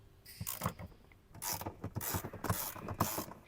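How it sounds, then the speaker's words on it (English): Ratchet and socket turning out the two 13mm-headed bolts securing a fire extinguisher bracket on a Ford F150/F250, heard as bursts of rapid metallic clicking close by, with pauses between strokes and no talking. "then get your ratchet and socket"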